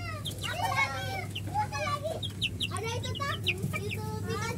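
A pair of young Italian batik chickens, about two months old and patterned black and white, cluck in short repeated calls at close range over a steady low hum.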